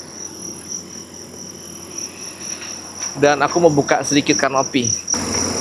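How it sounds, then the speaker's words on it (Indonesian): Crickets chirp in a steady, high, continuous trill near the Indonesia–Timor-Leste border; partway through, a person starts talking over it nearby. "Bisa kalian dengarkan suara dari jangkrik."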